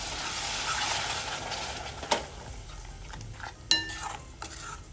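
Rajma stirred together with a freshly made gravy in a pan, a soft bubbling sizzle with a few sharp clinks of a spoon against the metal, close and alone.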